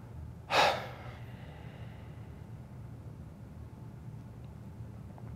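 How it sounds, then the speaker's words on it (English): During yoga breathing practice, after the chest is filled with air, one forceful open-mouthed gasp is let out. It is close and sharp, then fades into a quiet steady room hum. "Open the mouth and gasp it out."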